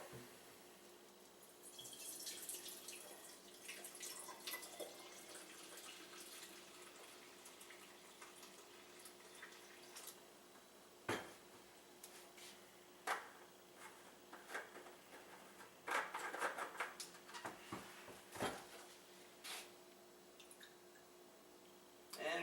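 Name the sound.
pouring brewed liquid through a strainer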